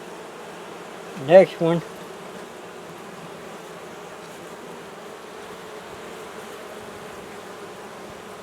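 Honey bees from an open hive with a capped queen cell, during a swarm-control inspection, keep up a soft, steady buzz throughout, while a voice briefly speaks near the start.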